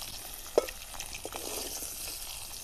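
Eggs fry in hot oil seasoned with turmeric and salt, a steady soft sizzle with a light utensil knock near the start, close and unaccompanied by speech.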